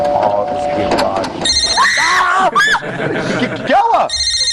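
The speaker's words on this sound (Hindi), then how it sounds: "अरे फोन बज रहा है तुम्हारा" A telephone bell rings repeatedly in a comedy scene, with bursts of electronic ringing over background talk and music-like tones; people speak around the rings.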